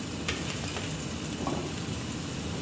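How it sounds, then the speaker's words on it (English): Chicken pieces sizzle steadily in a fryer basket while a creamy chicken bake is being prepared. The hiss is close and continuous, with a few faint stirring clicks and no talking. "Hear that sizzle?"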